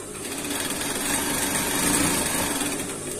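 A Typical brand sewing machine stitches at stitch length 1.2, a steady close-up motor whir with a fast, even needle rhythm running without pause.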